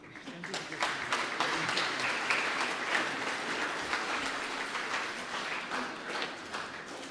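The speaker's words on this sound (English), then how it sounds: "Can you give a clap, please" A church congregation at a Mass claps steadily for several seconds, a dense, sustained round of applause.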